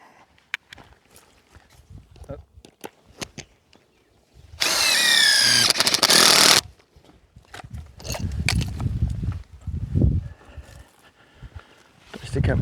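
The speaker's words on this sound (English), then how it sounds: "Okay, find the drill." A power drill fitted with a 13mm bit whines loudly for about two seconds on an outdoor freestanding awning setup, framed by scattered knocks, handling noises and nearby voices.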